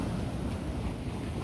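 Steady, continuous rush of ocean waves and gusting wind on Blackpool seafront in wet, windy weather, with wind buffeting the microphone and no voices.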